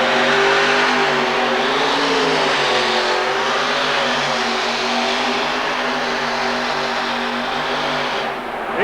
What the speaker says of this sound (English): 3 Aries engines cooking all the way down the track